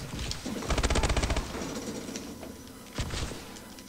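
Automatic weapon fire in Call of Duty: Advanced Warfare during a Gun Game match, a rapid burst of shots near the start followed by a shorter burst near the end, with other game sounds between.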